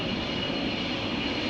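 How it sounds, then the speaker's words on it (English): A KLM wide-body jet roars steadily at close range while taking off from Amsterdam Schiphol, a loud broadband engine rush that holds level for the whole short stretch. "We got a headshot of a wide body, KLM flight 691. Taking cheaters lane off to Toronto in Canada."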